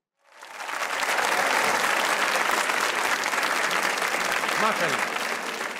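Loud, sustained applause from a studio audience at a Pakistani comedy talk show, swelling quickly and holding steady, with a brief spoken exclamation over the clapping.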